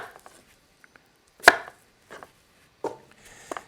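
A knife chopping colourful radishes into bite-size pieces on a board for a chicken and roasted fall vegetable stew: a few sparse, sharp strikes, one loud and close, with quieter taps between and silence around them.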